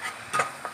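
Food stirred in a pan while cooking ayam kicap rempah kari, johorean-style soy sauce chicken with curry spices and a little sauce, giving a few short scraping and sizzling strokes up close with no voices.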